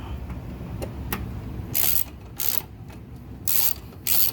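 A ratchet turns a 10mm socket on a long extension, driving bolts into the intake of a Subaru WRX during maintenance; bursts of quick, close ratcheting clicks come in several short runs separated by pauses.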